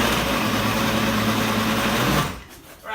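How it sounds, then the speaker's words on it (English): A blender whirs steadily through Ayamase pepper sauce in one continuous, loud burst before cutting out, the motor winding down at the end. "I should still blend it a little bit more, just a little bit"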